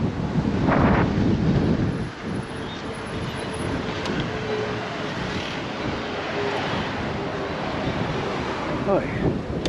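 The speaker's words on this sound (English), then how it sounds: "Oh, it's windy." Wind buffets and rumbles across the microphone in strong gusts while bike commuting, loudest at the start, then a steady blustery roar outdoors.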